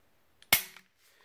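A Ruger LC9s pistol with a stainless steel slide is dry-fired with a dummy magazine, giving one sharp, close metallic snap followed by a faint softer click.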